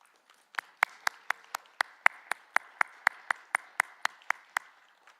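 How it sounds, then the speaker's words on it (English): A few people clap a slow, sparse round at a Métis languages conference, about fifteen distinct claps at an even pace, fairly close and alone with no talk. "I think you guys deserve a round of applause for that."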